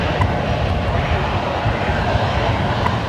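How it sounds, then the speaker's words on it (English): A Qatar Airways airliner rolls down the runway on takeoff at Brisbane Airport, its engines giving a steady, loud, broadband roar that fills the whole stretch without a break. "Qatari with the roll through to the very end of the runway there, departing down at Alpha 9er."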